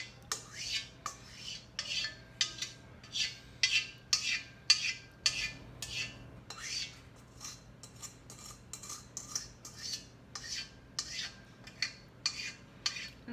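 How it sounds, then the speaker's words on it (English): A spoon scrapes the last pumpkin pie filling out of a bowl, giving a long series of sharp, regular metallic scrapes and clinks, close and clear, with no voices over them. "I'm just going to scrape out some of the rest of the filling"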